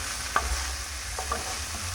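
Chicken and cabbage stir-fried together in a hot pan, giving a constant close sizzle with a few light clicks of a utensil against the pan, no talk.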